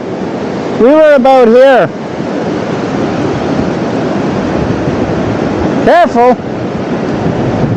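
Pacific Ocean surf at Long Beach near Tofino washes in a constant broad roar of breaking waves, while a person speaks briefly twice over it, near the start and again toward the end.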